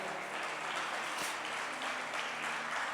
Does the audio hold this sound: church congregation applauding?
yes